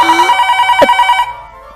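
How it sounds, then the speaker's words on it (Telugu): A telephone rings with a loud, close electronic trill that pulses rapidly for about a second, then cuts off and leaves quiet room tone. "ఫ్యాన్ కాదు మేడం, ఫోన్ రింగ్ అవుతుంది."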